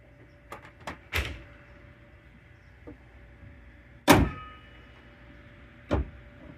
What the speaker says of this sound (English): All right, Christopher, try to close the hood.